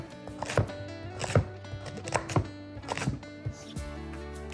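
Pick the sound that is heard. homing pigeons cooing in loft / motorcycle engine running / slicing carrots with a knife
slicing carrots with a knife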